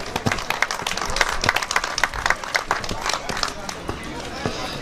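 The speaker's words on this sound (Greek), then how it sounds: "Ένα χειροκρότημα παρακαλώ." An audience claps and applauds at an outdoor tree planting event, a dense burst of hand claps with crowd murmur and some voices mixed in.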